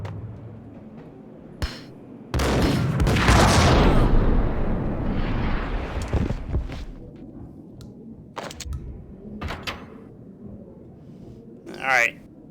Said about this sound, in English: Guy's gonna chuck a grenade.